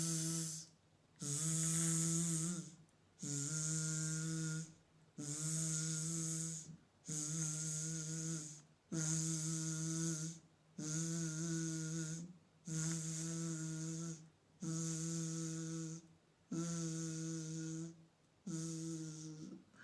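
Voices imitate a vibrating phone with a buzzing zzz sound during a breathing exercise, about ten steady buzzes each lasting a second or so, separated by short breath pauses.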